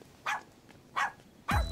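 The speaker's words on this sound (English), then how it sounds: "Good puppy." A puppy gives three short, sharp yips at a steady pace, each one clear and close, with near silence between them.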